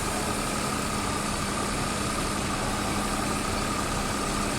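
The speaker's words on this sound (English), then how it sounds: "the tractor really struggles" A tractor engine labouring up a steep field gradient in a farming video game, a steady droning rumble with a constant low hum, held at even loudness with no variation.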